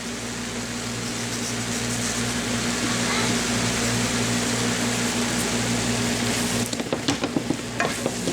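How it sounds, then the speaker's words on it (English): Chicken sautéing in melted butter until browning gives a loud, continuous close sizzle that holds steady, then breaks into scattered spits and pops as it settles. "so that I can saute this and get it nice and brown"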